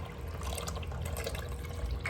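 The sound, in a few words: pouring vegetable juice into a soup pot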